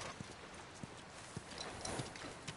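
Hooves of a horse in the video game The Last of Us clip-clop at a slow, steady walking pace. The hoofbeats are soft, evenly spaced thuds over a quiet ambient background.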